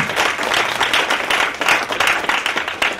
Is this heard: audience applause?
yes